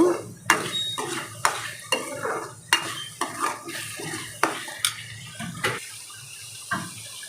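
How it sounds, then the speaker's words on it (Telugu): Masala spices fry in oil in a pan while being stirred, close scraping and clinking of a spoon against the pan in irregular strokes over a soft steady sizzle. "మసాలా ఒక 5 నిమిషాలు ఏగనిద్దాము. పచ్చి వాసన పోయేదాకా వేపుకుందాము."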